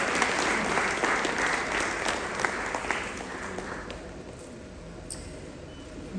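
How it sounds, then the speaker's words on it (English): Sustained applause from an audience at a women's achievement awards ceremony honoring an honoree, dense steady clapping that gradually thins and softens toward the end. "a big round of applause."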